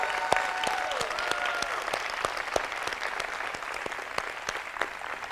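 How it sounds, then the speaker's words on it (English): A large audience at a startup competition event gives a round of applause to thank the judges, producing steady, dense clapping with sharp individual claps standing out near the front throughout. "So one last round of applause to say thank you for being here."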